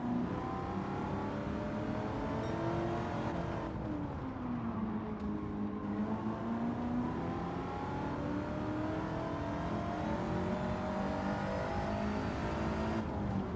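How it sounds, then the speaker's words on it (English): A supercharged car engine in the racing game Gran Turismo 7 holds a steady, moderate drone that sags in pitch briefly and then climbs again, with a faint supercharger whine at the top end and no talking. "so I can hear the supercharger."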